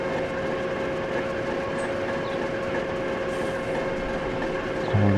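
A train in the simulation game Transport Fever 2 starts off from a station with a steady rolling rumble and a constant engine hum, a short low clunk at the very end.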